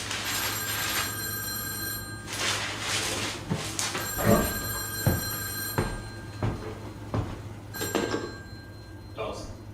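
An old telephone bell rings in repeated bursts through a prison audio tour at Alcatraz Island, sounding in steady cycles beneath and between other noises across the stretch.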